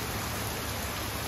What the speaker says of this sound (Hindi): तो बाहर अच्छी बारिश हो रही है